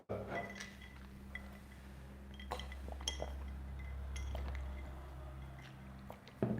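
Ice cubes clinking in a drinking glass, scattered small sharp clinks spread over several seconds, faint and close over a low hum, with no clear talk.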